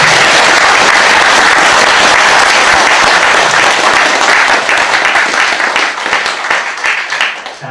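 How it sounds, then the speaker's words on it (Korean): An audience gives a loud round of clapping for a speaker at a Korean talk event, dense and close at first, then thinning into scattered claps as it fades. "우리 황 소장님 박수 한번 주시죠."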